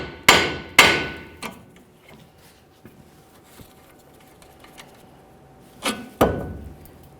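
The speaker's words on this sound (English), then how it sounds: "A couple loving bonks should cause some vibration." Several sharp metallic hammer blows ring out on a steering knuckle of a 1999-2006 Chevrolet Silverado 1500, two close together at the start and two more near the end, with light taps and ringing between.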